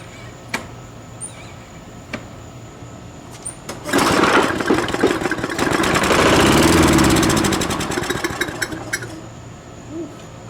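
A Toro Recycler lawn mower with a Tecumseh engine cranks after a few faint clicks, catches and runs loudly up close with a steady, buzzing drone that swells and then settles.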